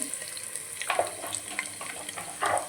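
Crushed garlic, dried red chillies, four green chillies and onions sizzle in a pan for a Telangana-style pappu kura, a soft steady frying hiss broken by a few stirring clinks and scrapes.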